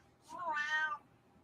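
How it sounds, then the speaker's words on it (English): A house cat gives a single clear meow, close and moderately loud, rising and falling over about half a second against a quiet room. "that's your cat."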